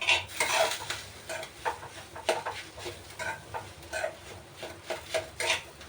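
A spatula stirring peanut chutney in a kadai and breaking up lumps. Repeated scraping and tapping strokes of metal against the pan come in an uneven rhythm, close and fairly quiet.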